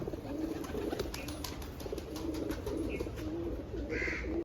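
Pigeons coo repeatedly in low, soft murmurs, with occasional faint chirps and a steady background hum.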